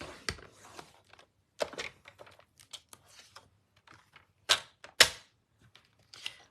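Cardstock being scored on a paper trimmer, a series of sharp clicks and scraping ticks scattered irregularly, quiet and close, with a few louder snaps among softer taps.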